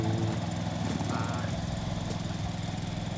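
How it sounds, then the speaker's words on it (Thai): A 14 hp Orec riding lawn mower cuts grass in first gear, its engine droning steadily and fairly quietly at close range with a faint rattle, and no talking over it. "เริ่มต้นด้วยเกียร์หนึ่งครับเดินช้าสุดนะครับ ค่อยๆตัดไปดู"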